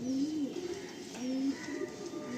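Pigeons in a loft coo close by, sounding repeated low rolling calls, one after another, that stand out clearly over a soft background hum.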